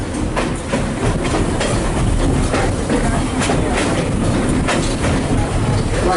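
The McCloud #25 steam locomotive train runs on the Oregon Coast Scenic Railroad with a loud, close rumble and rhythmic clickety-clack of wheels over rail joints, heard steadily throughout.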